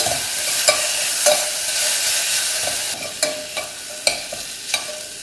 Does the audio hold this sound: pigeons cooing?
no